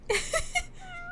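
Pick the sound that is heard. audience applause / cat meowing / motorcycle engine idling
cat meowing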